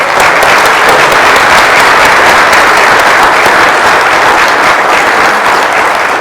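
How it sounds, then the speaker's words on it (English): Audience applauding after a musical performance by a music circle at a city State of the City event, a loud, dense, steady wash of clapping with no speech. "Please join me in giving a round of applause to the wonderful music we just had"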